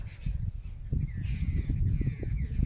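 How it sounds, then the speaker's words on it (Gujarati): A flock of sparrows in a groundnut farm field gives chattering calls that rise and fall over a constant low rumble of outdoor noise, continuous across the clip. "જોવા જો ચકલા જો આમાં જ્યાં ઈરું હોય ત્યાં બેસી જાય અને આખું ઝુંડ એકદમ ભેરું"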